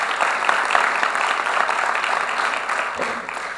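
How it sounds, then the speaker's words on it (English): Steady audience applause fills the room at an opening ceremony honoring Eisenhower Fellows, dense clapping sustained throughout at moderate loudness with no voices over it. "a round of applause to all the fellows that could make it here"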